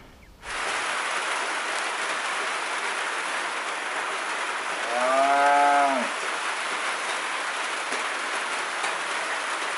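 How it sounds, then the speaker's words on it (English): A single cow lets out one long, low moo midway through, rising slightly then fading, set against a steady hiss of rain falling on the ground around it. "He's calling the rest of the cows."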